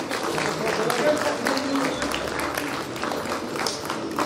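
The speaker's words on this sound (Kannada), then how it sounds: "ಚಪ್ಪಾಳೆ ಬರಲಿ." An audience claps at the release of a Vachana Viveka booklet during a Basava Jayanti government function, steady moderate applause throughout with faint crowd voices mixed in.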